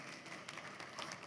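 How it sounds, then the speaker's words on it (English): Audience applause for a speaker at a talk on decentralization, a dense steady wash of many hands clapping at even loudness throughout, with no voices over it. "Please, can we clap for him,"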